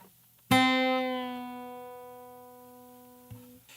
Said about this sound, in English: This means you pick the string while it's already bent and then bring it back down to its normal note.